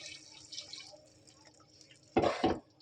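Water is poured into a pot of spiced masala while biryani cooks. Faint drips come first, then a short, close splash-like pour of about half a second near the end.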